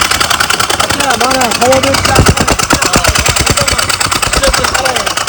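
A motor engine started with a single switch, running with a loud, rapid, knocking rhythm close by, while someone talks over it.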